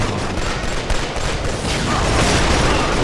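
Rapid, loud gunfire from the M82 rifle in the video game Killzone 2 rattles on almost without a break for about three seconds.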